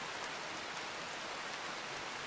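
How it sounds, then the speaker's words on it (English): Steady, even rainfall in the RimWorld video game, a dense soft hiss without pauses and without voices. "Oh, it started raining."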